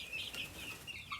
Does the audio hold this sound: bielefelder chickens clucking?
yes